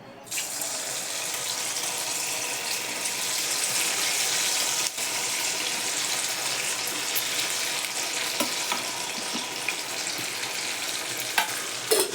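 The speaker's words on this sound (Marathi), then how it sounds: "चला आता तळायला घेऊ आपण तेल तापलं आहे बघा आता मी ह्यात थोड्या थोड्या वळ्या टाकायला घेते तळून" Raw papaya vadi pieces fry in hot oil, giving a continuous bright, dense sizzle and bubbling that holds steady throughout, close up with occasional small clicks of the utensil and no speech.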